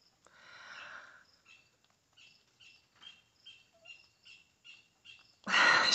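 A small bird sings a series of short, high chirps in an even rhythm, fairly close but soft, after a brief rustle, ending with a louder burst of noise.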